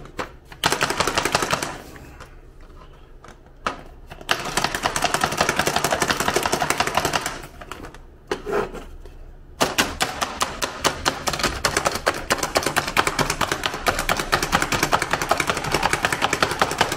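Rapid, steady knife chopping of onions on a board, a fast continuous rattle of blade strikes with a couple of brief pauses, close and loud.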